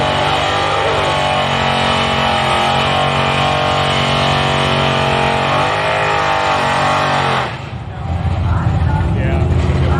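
Budget-built Chevy S10 drag truck launching down a drag strip, a loud, sustained roar at full throttle that cuts off sharply near the end into a lower rumble, with a commentator's voice over the engine.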